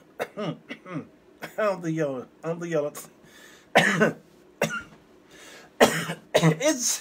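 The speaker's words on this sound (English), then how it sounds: "It's so devastating that I'm coughing it out of my system." Several harsh coughs and throat-clearing bursts, close and loud, mixed with a voice talking between them in short bursts.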